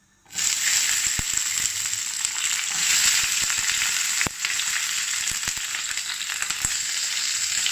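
Peppers drop into a hot pan already frying potatoes for a chicken kebab dish, setting off a loud, steady sizzle with sharp crackles and pops throughout, close and alone.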